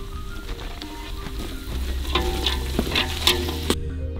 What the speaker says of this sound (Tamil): பூண்டு, அது கூடவே வெங்காயம் போட்டுக்கலாம்